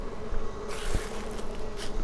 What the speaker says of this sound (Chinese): 好多蜜蜂围着他们